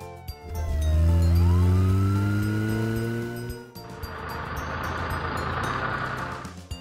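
A toy police car's siren wails in rising and falling tones for a few seconds, up close and loud, then gives way to a broader rushing vehicle noise with a few clicks.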